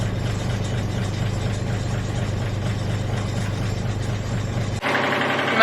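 A boat engine drones steadily and loudly throughout with a low, even rumble, shifting to a brighter, rattling tone near the end.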